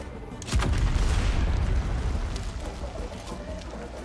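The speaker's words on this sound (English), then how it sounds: "that guy was just about to throw them those rockets at me" Rocket blast in Dune Awakening, a single loud, close boom hitting suddenly and rolling out into a long, low rumble that slowly fades.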